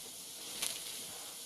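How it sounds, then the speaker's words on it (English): A brand-new 2005 Rowenta Effective DX1200 steam iron gives a steady, close hiss of steam, with one brief louder burst in the middle. "Well, Rowentas do produce a lot of steam."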